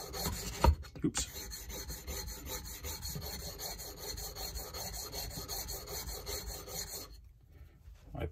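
A steel chisel stroked back and forth across an abrasive sharpening surface, giving a steady close rasping scrape that runs for several seconds after a brief knock, then stops near the end.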